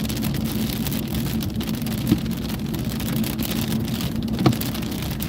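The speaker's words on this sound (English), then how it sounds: "The duration of this strong wind, because the storm is moving so slow, it's just wild to me." Steady heavy rain and strong wind from a slow-moving storm in NW Kansas roar continuously, with two brief louder gusts or knocks standing out against the constant wash of noise.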